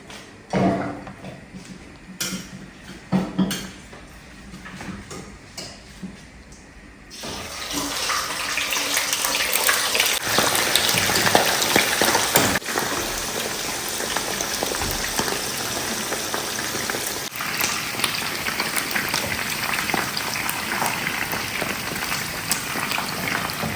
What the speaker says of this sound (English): And then now our oil is ready to go in. We start frying our meat.